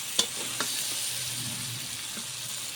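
Jackfruit curry masala being stir-fried in a pan, a steady close sizzle with a couple of sharp spatula scrapes near the start and no talking.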